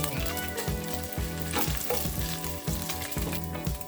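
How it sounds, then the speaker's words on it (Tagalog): Vinegar, soy sauce, salt, pepper and garlic marinated meat for igado frying in hot rendered pork fat, giving a loud, continuous sizzle with rhythmic stirring scrapes of a utensil against the pan. "Tapos lagyan natin yung karne na marinate."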